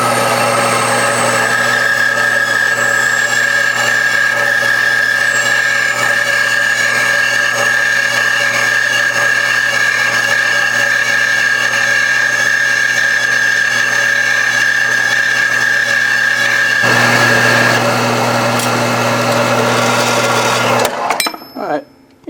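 A power saw whines steadily through a piece of high-density plastic in a home workshop, a sustained tonal buzz close to the mic that runs for most of the stretch, then shifts in pitch and stops abruptly near the end.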